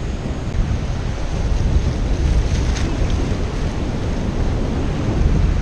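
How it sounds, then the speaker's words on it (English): Steady, roaring wind buffets the microphone over rough saltwater surf at a beach, a constant broadband rush with no voices, loud and unbroken throughout. "It is definitely windy, kind of rough."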